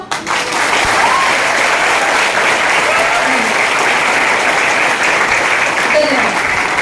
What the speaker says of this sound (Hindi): उसको जोरदार तालियों से अभी जरा आवाज करके दिखाओ